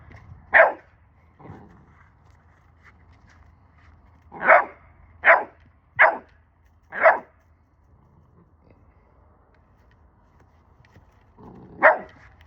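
A puppy in training barks in short, sharp bursts: two near the start, a tight run of four in the middle and one more at the end, close by with quiet pauses between and no talk.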